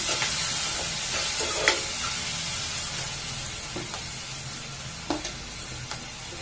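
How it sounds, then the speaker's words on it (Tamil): Potatoes and chickpeas sauté in a pan for a chickpea curry, a steady sizzle running throughout with scattered scraping clicks from stirring, moderately loud and close with no voices. "இப்போ உப்பு ஒரு நிமிஷம் வதங்கின உடனே நம்ம வந்து உருளைக்கிழங்கு கொண்டக்கடலை எல்லாம் சேர்க்க போறோம்."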